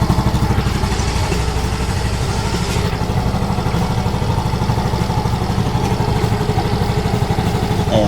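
Yamaha Mio Gear scooter engine idling after a few minutes of running, warm at about 40 °C, a close, steady rapid putter with a light mechanical clatter and no voices.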